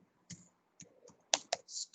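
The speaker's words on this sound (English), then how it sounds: "Here I am typing." Typing on a computer keyboard, a few separate clicks and short bursts of keystrokes at close range in a quiet room, with pauses between them.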